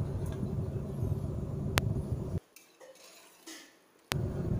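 A pressure cooker lid is opened after five whistles, once the pressure has fully released, after cooking Chettinad mutton kulambu: steady kitchen noise with a sharp metallic clink, a sudden near-silent pause, then another clank of the metal lid.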